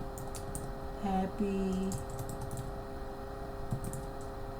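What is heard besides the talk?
typing text on a computer keyboard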